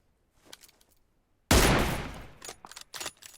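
Gunfire in the PUBG Mobile video game: one sudden loud blast that decays over a second, followed by a few sharper, quieter shots.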